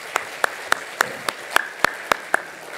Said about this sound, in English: If you would give him a round of applause.